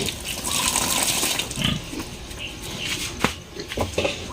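Pigs on a piggery farm make grunting and snuffling noises at close range against a noisy, splashing pen background, with a sharp thump or squeal about three seconds in and no talk.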